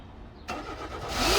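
Suzuki Swift with no mass airflow sensor connected cranks and catches abruptly, firing up into a rising engine roar, close and loud.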